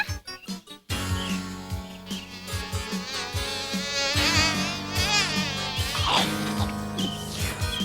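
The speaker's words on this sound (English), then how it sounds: "That field of honeybells just had that swarm of bees for lunch." A cartoon swarm of honeybees buzzes steadily over a field of honeybells, a dense droning hum that rises and warbles under a light musical score, with a few soft knocks at the start.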